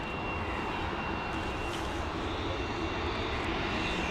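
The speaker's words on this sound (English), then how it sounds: "Heading over to London Heathrow now with this A320neo." A British Airways Airbus A320neo jet departs Dublin Airport for London Heathrow, its engines producing a steady, loud broadband roar that fills the scene without a break.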